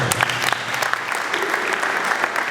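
Wedding guests clap together in steady, sustained applause, a dense crowd sound that holds at an even level throughout with no pauses.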